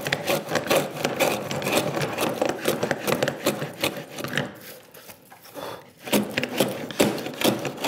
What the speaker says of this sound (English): and use the router now. Which works similarly to the chisel